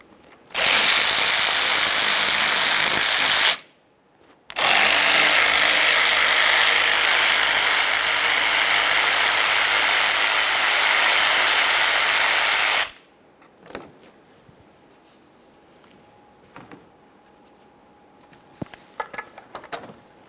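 A ratchet tool buzzes steadily while removing four 8mm mounting bolts from the intercooler of a 2013-2020 Ford Fusion 2.0L, sounding in two long, loud runs, then fading into quiet scattered clicks and taps.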